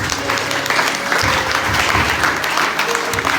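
A church congregation applauds in a sustained, dense burst of clapping that fills the room, with faint voices mixed in.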